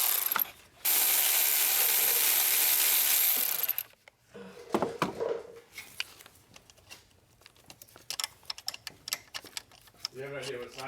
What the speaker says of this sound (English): so now I'm gonna undo these bolts to get the thermostat housing out